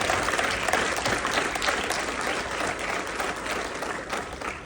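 An audience at a Toronto civic event bursts into sustained, dense applause that is loud at first and eases slightly toward the end. No voices are heard over it.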